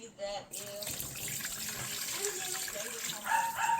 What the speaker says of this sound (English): I have the broth here, pouring it in